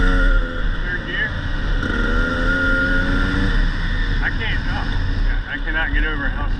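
A 2020 KTM 300 XC-W two-stroke dirt bike accelerates in third gear, its engine droning loudly and steadily close by, with a rider's voice heard over the engine noise.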